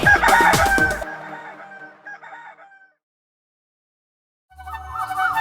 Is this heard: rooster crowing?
yes